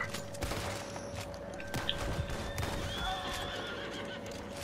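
A horse in the Western video game Red Dead Online whinnies amid hoofbeats, a few gunshots and busy game ambience, the neigh standing out briefly near the middle.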